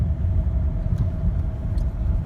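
Fiat Linea with Dualogic automated gearbox in Eco mode, engine droning steadily from inside the cabin while driving through a gear change, a low continuous rumble with no talk.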